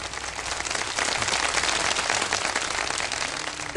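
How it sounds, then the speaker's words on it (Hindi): Studio audience applauding during a live Ramadan transmission, a dense, steady wash of clapping filling the whole stretch without pause. "एक दफा तालियां बजा दे"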